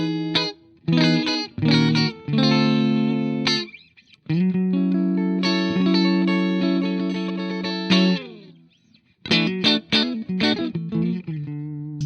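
Electric guitar played through Amplitube 5 amp simulation with reverb, distorted chords and sustained notes in choppy bursts, a long ringing chord in the middle and short staccato hits at the end, tails washing into reverb.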